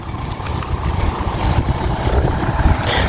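A loud, steady tractor engine rumble in a wet rice field, with rough low-end churning and wind noise, no voices.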